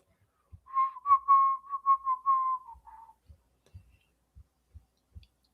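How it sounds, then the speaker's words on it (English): A person casually whistles a short tune, a run of clear notes lasting a couple of seconds at moderate loudness, followed by faint low thumps. "You're whistling the song"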